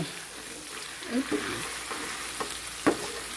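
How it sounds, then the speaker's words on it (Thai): Ingredients for braised pork leg sizzle in a pan while being stir-fried, a steady close frying hiss with a few scraping stirs and knocks, with someone talking faintly. "ผัดให้หอมไปเลยนะคะ"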